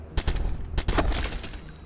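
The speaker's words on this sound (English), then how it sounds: "continue to shoot them. I currently got a silenced weapon" A handful of muffled suppressed gunshots from a silenced weapon in Watch Dogs, fired as a few quick irregular pops in a short burst with no talk.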